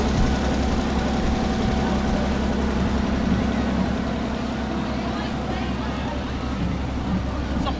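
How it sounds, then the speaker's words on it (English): Old tractor at a Halloween parade in New Brighton, its engine chugging in a steady low rumble nearby for several seconds, with people talking over it outdoors. "I love these old tractors"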